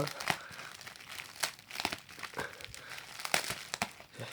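Blue plastic wrap around a Gobuki full-cover, full-adhesive tempered glass screen protector for a Galaxy S23 Ultra crinkles close up in repeated uneven handling bursts, with quiet gaps between them.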